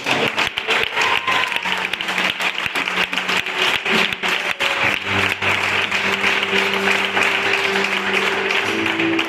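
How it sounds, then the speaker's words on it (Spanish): Loud, dense applause from a large church congregation, sustained clapping throughout with a steady background tone. "Dale un fuerte aplauso para el Señor."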